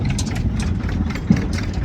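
A tractor engine idles nearby on a farm, a loud, steady low rumble that carries on unbroken with no one speaking.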